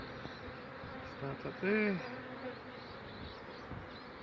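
Bees buzzing at an exposed hive inside a chimney, a steady dense hum throughout with one louder buzz passing close midway, and a brief voice speaking.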